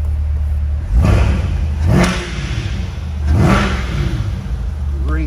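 A 2021 Corvette Z51 coupe running at close range, its V8 exhaust rising in three sharp revs over a rumbling idle.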